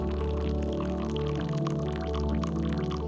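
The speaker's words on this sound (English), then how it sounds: "So I'm gonna start pouring my coconut milk in this mango matcha." Coconut milk pours steadily into a mango matcha drink, a soft continuous liquid stream over a steady tonal hum, with no voices.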